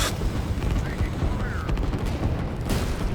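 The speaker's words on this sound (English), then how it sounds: "Romad's sending in the bombers to help clear that rocket pad." Bombers striking a rocket pad in the real-time strategy game Line War, a dense, loud rattle of rapid gunfire and explosive bursts with a couple of sharper blasts, while players talk over the action.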